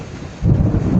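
Thunder rolling over a rice field during a rainstorm, a deep rumble that swells suddenly halfway through over steady rain noise, loud and close.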